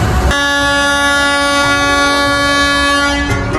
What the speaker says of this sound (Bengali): এই যে দেখেন ট্রেন কিন্তু ছেড়ে দিছে